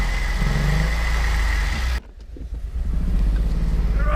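A car engine with a battery-draining fault idles steadily and close, a low constant hum that cuts out sharply midway, then rumbles back up after a short quieter gap.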